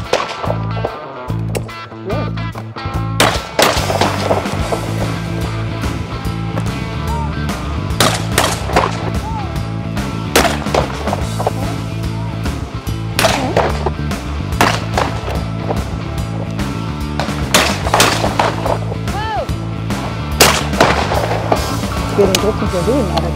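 Shotgun shots fired during hunting practice by a women's hunting team in Lower Saxony, a series of sharp loud reports at irregular intervals over steady background noise, with people talking in between.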